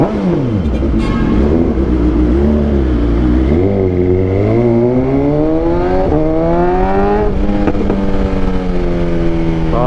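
BMW S1000XR motorcycle fitted with an Akrapovic full exhaust system and a remap, ridden on the road, engine revving up steadily through the gears with a rising, throaty note that stays loud and close throughout.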